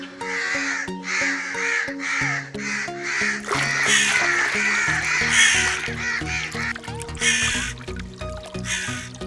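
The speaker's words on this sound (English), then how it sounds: "crow sound, raven sound" Crows caw in repeated harsh calls, several birds overlapping at close range with a steady low hum and clattering tones beneath, the calls growing denser and louder midway.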